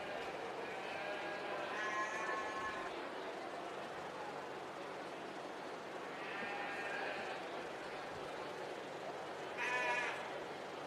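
Sheep bleat at a 4-H county fair sheep show ring, several harmonic calls in three bursts over steady crowd and hall noise, moderately close.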